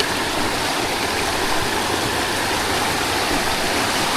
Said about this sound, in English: Little creek crossing.